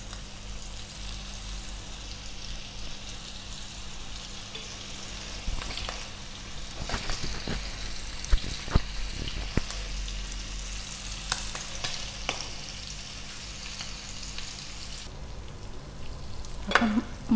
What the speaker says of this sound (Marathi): रव्यात आपल्याला आता तेलात टाकून घेत आहे.